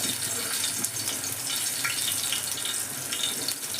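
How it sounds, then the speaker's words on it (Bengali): Eggplant slices fry in hot oil over a gas flame, giving a steady, fairly close hiss and crackle with small pops throughout, and no talking. "এবার আমি এক এক করে বেগুনগুলো তেলে আমি ভেজে নেব।"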